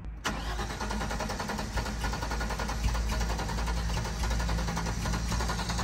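A car in Morocco cranks over and over without catching, the starter's steady churning grind running on for several seconds, loud and close after a brief click at the start.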